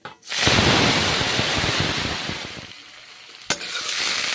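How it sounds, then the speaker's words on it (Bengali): Onions sizzling loudly in hot five-spice oil, a dense close crackle with a spoon stirring through them, easing slightly before a sharp scrape and renewed frying. "পেঁয়াজ ভেজে নিচ্ছি নেড়ে চেড়ে।"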